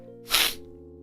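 A single short, breathy sneeze bursts out close by over a steady low hum, lasting only a fraction of a second.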